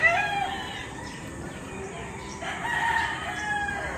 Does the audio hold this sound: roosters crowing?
yes